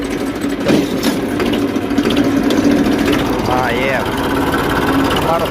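A Massey Ferguson 1035 diesel tractor runs close by on a farm, its steady, throbbing engine drone continuing throughout beneath people talking.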